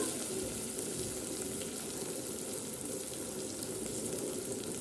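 Rice sautés in a hot pan, giving a steady, close, even sizzle and crackle that runs unbroken throughout, with no voices.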